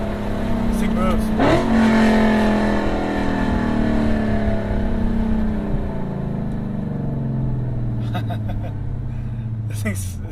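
Lexus IS F sedan with its exhaust valves open, accelerating hard in a loud, sustained engine roar with rising and falling revs close inside the car, while people talk over it.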